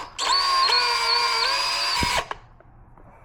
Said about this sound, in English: Man, this thing's hard to drill through